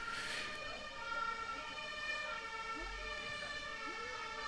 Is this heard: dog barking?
no